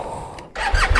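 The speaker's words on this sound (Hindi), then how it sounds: "लोड अप करते हैं बाइक को, स्टार्ट और निकलते हैं यहाँ से।" A motorcycle engine starts up during a touring ride near Lake Skadar, giving a short whirr and then a low, rising rumble as it catches, close and brief, with no speech.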